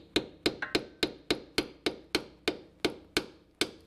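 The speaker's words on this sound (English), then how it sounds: "Give it a tap with a hammer." A hammer taps a 2005-2009 Subaru Legacy transmission pan about a dozen times in a steady, even rhythm, each strike sharp and close with a brief ringing decay.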